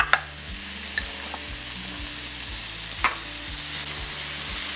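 Peppers and onions sizzle and hiss steadily in a hot pan as they are tossed and sautéed beside Italian sausage, with a few sharp clinks of a utensil against the pan up close and no talking.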